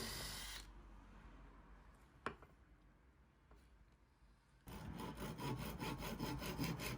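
A saw rasps through mahogany in steady strokes, quieter in the middle, then a louder, denser burst of cutting near the end, with a single sharp knock.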